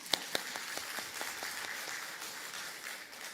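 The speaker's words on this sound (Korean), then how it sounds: "정말 우리 박수 한번 칩시다." A church congregation applauds a deacon, faint, distant clapping from many hands with a couple of sharper claps standing out near the start.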